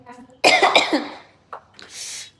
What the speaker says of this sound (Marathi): ते पिझ्झा खाऊन खाऊन मला आता खोकला यायला लागलाय